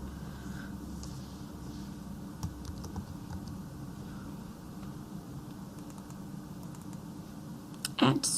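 Faint clicks of a computer keyboard tap along irregularly as code is typed into Android Studio, quiet and light beneath a low room hum, with a louder cluster of keystrokes near the end.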